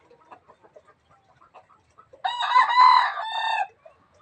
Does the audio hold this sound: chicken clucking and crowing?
yes